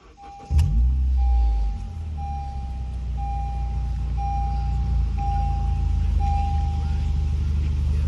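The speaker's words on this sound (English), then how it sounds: "Let's go ahead and fire it up." Used car bought at a dealer auction, labeled with motor noise, cranks and fires up, then settles into a low steady idle while a warning chime beeps repeatedly at a regular pace.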